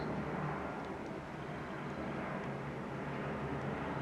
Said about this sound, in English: there's another aeroplane flying over,